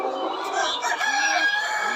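Red layer hens, about a thousand kept for eggs on a farm, cluck continuously in a dense close chorus, with rooster-like crowing calls rising over the steady flock noise.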